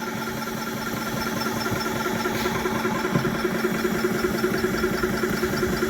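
A high-pressure air compressor pumps up a .25 caliber Air Venturi Avenger air rifle toward roughly 4,300 psi, rattling the table beneath it. It makes a steady, unbroken mechanical drone with constant vibration, close and fairly loud, with no talking.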